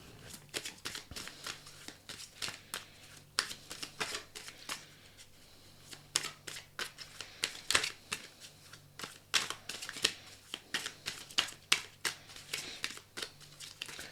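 Oracle cards are shuffled by hand for a reading, giving quick crisp riffling bursts and soft flicks that repeat irregularly, close and fairly quiet, with no talk.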